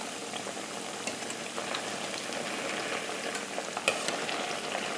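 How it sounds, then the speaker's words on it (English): Used cooking oil bubbling in a pan with a cleaning jelly glob frying in it, a dense, even crackle like light rain that holds steady throughout, with one small clink near the end. "And we're just going to let it fry until it starts getting pretty brown."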